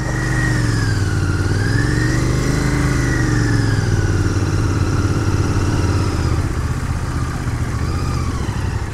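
A Royal Enfield Continental GT 650 motorcycle rides along a rough off-road track, its engine droning steadily with rising and falling revs throughout, close and loud, no talking.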